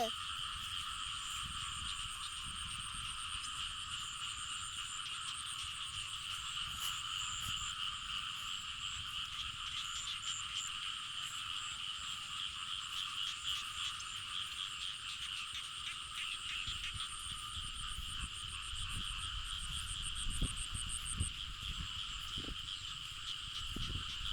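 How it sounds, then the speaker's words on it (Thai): Frogs croak in a dense, steady chorus on a morning in the countryside, with insects chirping underneath, continuous and moderately distant, with no voices. "มีแต่เสียงกบเสียงเขียดพี่น้องเอ้"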